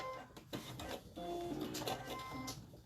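A sewing machine runs briefly back and forth to lock-stitch the end of a quilt seam on an attic window block, a close mechanical whir with tonal motor hum and faint speech.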